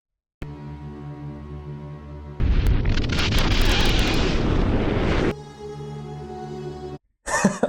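A volcanic eruption sound effect bursts in as a loud, sustained roaring rumble with crackling debris for about three seconds. It sits between steady droning tones and is followed by a brief sharp blast at the end.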